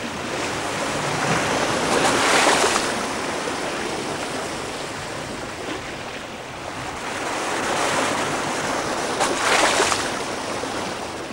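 Sea waves rush and break around the bow of a sailing ship at sea, a broad steady wash of water that surges louder twice, with no voices over it.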